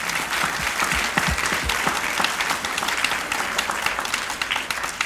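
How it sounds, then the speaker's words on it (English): Steady, full applause from a gathered audience at a civic ceremony honoring children's donation of a county record book, continuous clapping throughout with no pauses. "let's give them a great round of applause again"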